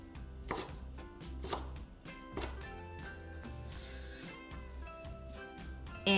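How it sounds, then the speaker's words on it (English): A knife chops chili pepper on a board in quick irregular taps, close and crisp. Soft background music plays underneath, and the clip ends with a brief louder bump. "Chop the chili pepper."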